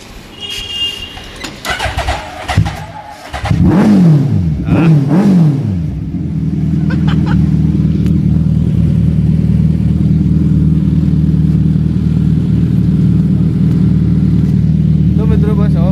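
A 1300cc motorcycle engine is blipped through a few sharp rising revs after early speech, then settles into a loud, steady, close-up idle rumble that carries to the end.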